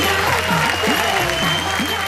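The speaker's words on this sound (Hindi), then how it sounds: "जोरदार तालियों से स्वागत करेंगे हम" Audience applause welcoming a poet on stage at a Hindi comedy poetry show, a steady dense wash of clapping that carries evenly through the whole stretch, with a voice talking over it.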